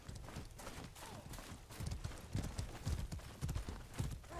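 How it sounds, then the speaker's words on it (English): Horse in a video game match, with rapid clip-clop hoof impacts and thuds of it being kicked, busy and continuous over noisy game sound. "kicking the horse to death"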